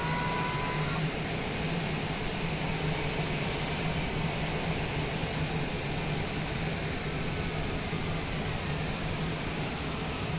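Jet engines of a Longitude business jet hum and whine steadily before takeoff, a constant loud roar with high tonal whistles, heard from inside without any break.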